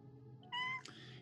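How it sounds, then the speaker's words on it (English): A cat gives a single short, clear meow indoors, faint against a low background hum. "Even the cat wants to be a part of it."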